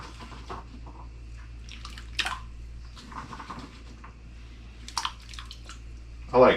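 Carrots drop into simmering broth for Mexican albondigas soup, making a few soft, scattered splashes over a low steady hum, followed by a louder clatter at the very end.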